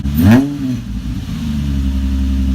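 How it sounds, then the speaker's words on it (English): Nissan 350Z engine with a Megan Racing exhaust, one sharp close rev blipping up and falling back within half a second, then a loud, deep, steady idle rumble carrying on. "Give it a little rev."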